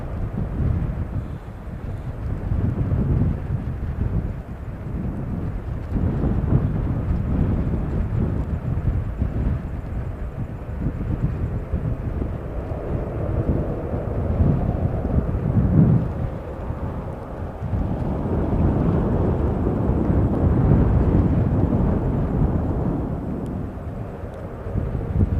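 An airliner touching down in gusty wind, with a broad, loud, rumbling roar of engines and wind buffeting the microphone that swells and fades continuously throughout.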